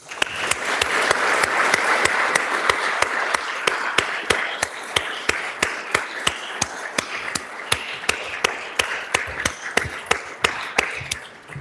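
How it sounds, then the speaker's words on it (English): House members in a legislative chamber give a sustained round of applause, dense at first and then thinning to scattered sharp claps near the end. "Please join me in giving her a round of applause."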